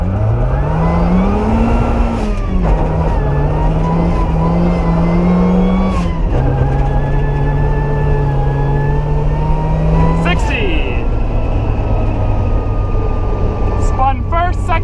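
A supercharged Mazda Miata built for off-road use accelerates hard on a loose, low-traction surface, its engine revving loudly through several gear changes with wheelspin, close and continuous, while a person speaks over it.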